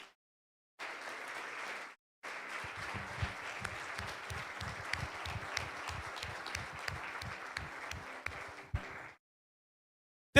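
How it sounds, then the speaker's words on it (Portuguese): A church congregation breaks into loud, sustained applause that builds into rhythmic, steady clapping at an even beat, continuing for several seconds before cutting off sharply. "Aplauda o Senhor Jesus."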